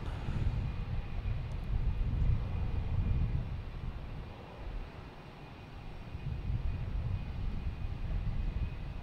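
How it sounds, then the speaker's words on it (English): Delta Embraer E-175 jet taking off at Boston Logan Airport, a broad roaring engine rumble that swells, dips briefly, then builds again, heard from a distance in open air without talk. "Next takeoff's at Delta, E-175, heading to LaGuardia"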